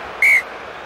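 A referee's whistle at a Munster versus Toulouse rugby match in 2008 gives one short, sharp, clear blast of about a fifth of a second over faint crowd background.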